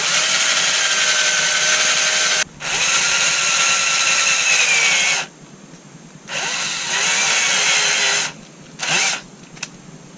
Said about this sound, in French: Alors je perce juste à peine un petit peu.